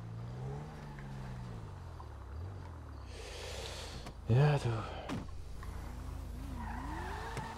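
A car in GTA 5 Online is parked with its engine running, ending in a brief loud tire squeal as it stops, while people talk over the game sound.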